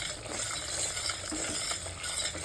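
Masala roasting in oil for a mixed-sprouts curry, stirred with a spoon: steady sizzling and frying hiss with soft scraping strokes, close and continuous, no voices.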